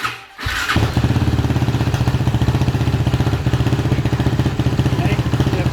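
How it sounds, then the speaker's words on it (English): A Suzuki LTZ 400 or LTR 450 ATV engine starts after a brief thump, then settles into a loud, steady, rapidly pulsing idle that runs close to the microphone with no talk over it. "We'll start the bike."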